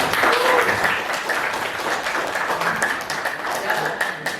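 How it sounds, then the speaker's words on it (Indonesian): An audience in an Indonesian classroom session on AI gives a sustained round of applause, many hands clapping densely and evenly at close range for the whole stretch, fading slightly toward the end. "terima kasih buat Fayaz, tepuk tangan"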